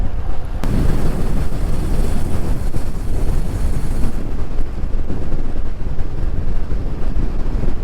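Strong wind roars over the microphone while cycling on Usui Pass in Japan, a loud, steady buffeting rush that fills the whole stretch without any talk.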